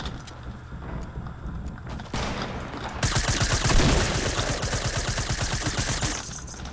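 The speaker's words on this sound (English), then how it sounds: "There's, like, shooting literally everywhere." Rapid bursts of gunfire from Fortnite gameplay crackle in dense, fast volleys, starting quietly and then turning into sustained rattling fire for several seconds before tapering off.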